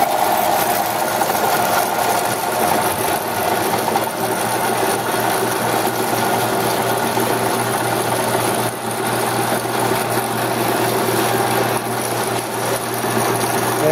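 A Vectrax 7x12 inch band saw with hydraulic down feed and coolant pump runs steadily, a constant close mechanical hum and buzz with no breaks.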